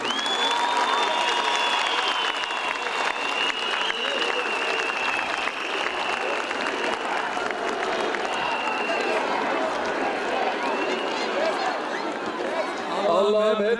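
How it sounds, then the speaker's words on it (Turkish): A large outdoor rally crowd in Maltepe, Istanbul applauds and cheers steadily for the children, a dense wash of clapping that stays loud and even throughout, with crowd noise blended in. "Şu güzel çocukları bir alkışlayın ya."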